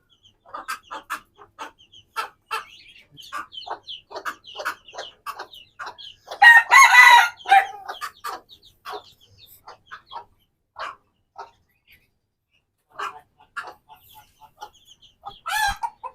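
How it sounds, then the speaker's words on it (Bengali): Aseel hens cluck in short, scattered bursts with a few sharper squawks, close by and fairly quiet, with thin chick peeps mixed in. "আমরা আমাদের মুরগি সহ বাচ্চাগুলোকে ছাড়লাম"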